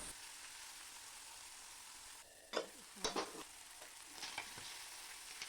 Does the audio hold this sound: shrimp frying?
yes